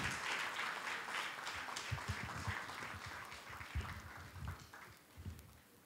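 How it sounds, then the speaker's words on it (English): An audience at a book launch applauds to welcome actress Shilpa Shetty, moderately distant clapping that is full at first and then slowly tapers with scattered claps toward the end. "Let's welcome Shilpa Ji with a much bigger round of applause"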